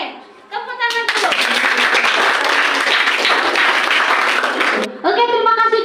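Classroom applause for a student group in an Indonesian civics (PPKn) lesson: a sustained, even burst of many hands clapping for about four seconds, with a teacher's voice speaking just before and after.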